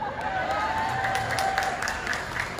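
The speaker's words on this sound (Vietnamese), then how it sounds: "Thế là chỉ có những chị vỗ tay, còn các anh chắc có lẽ là ganh tức hay sao mà không vỗ." Women in a concert audience clapping, a light, moderate patter of applause that continues steadily with no clear speech.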